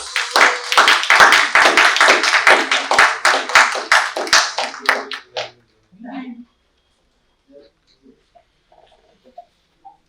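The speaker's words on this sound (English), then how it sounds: "clapping is good for heart" Audience clapping at a stage event, a dense run of hand claps that thins out and stops about halfway through, with a few scattered faint taps and sounds afterward.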